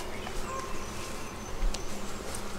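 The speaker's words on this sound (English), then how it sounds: "I can't even really put my hand here because there's a million bees." Dense, steady buzzing of a honeybee swarm right at the front of a beehive during an inspection, close and continuous with individual bees whining past.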